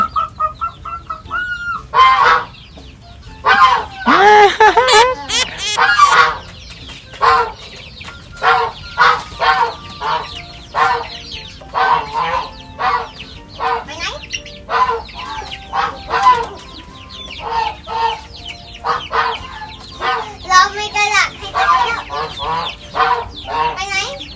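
Chickens on a farm cluck and squawk repeatedly close by in irregular bursts, loud and busy, with occasional sharper cries and faint flapping between calls.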